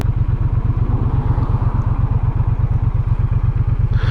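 A Triumph T120 motorcycle rides along a road, its parallel-twin engine thumping in a fast, even low pulse with rushing wind noise, loud and close throughout.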